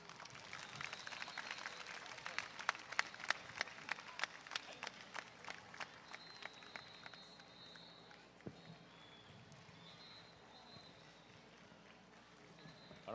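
Audience applause at the Palarong Pambansa 2010 opening ceremony in Tarlac, with dense clapping and crowd noise swelling early and then thinning to scattered claps under a murmuring crowd.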